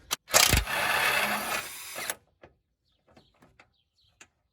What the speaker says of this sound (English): using a 19mm again hex head, remove the bolt